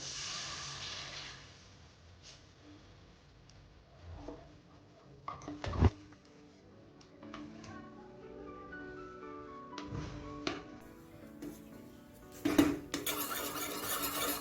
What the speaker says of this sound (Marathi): हे असं कंटिन्यू हलवत राहायचं, नाहीतर त्याचे गोळे होतात.